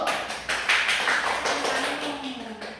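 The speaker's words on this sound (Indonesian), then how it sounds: "Selamat kasih tepuk tangan dulu" A class gives a short round of clapping for a group's question during a microteaching lesson, with a handful of distinct claps that are fairly close and moderately loud, over a faint sustained tone.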